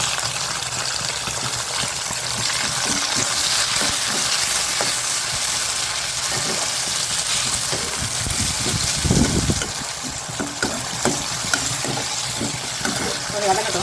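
Onions, tomato, curry leaves and green chilli sautéing for a chicken fry give a loud, continuous, close-up sizzle with stirring. A voice speaks over it at times.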